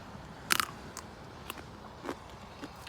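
A single sharp crunchy bite into a cucamelon snaps loudly up close, followed by a few faint chewing crunches against quiet background.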